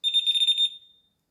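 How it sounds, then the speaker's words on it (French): A Delkim bite alarm detector sounds during a test, giving a high, steady electronic tone with a fluttering pulse that lasts under a second, then cuts off into silence. "sur mon détecteur Delkim, on s'aperçoit que en faisant le test, le détecteur s'allume mais pas la LED rouge"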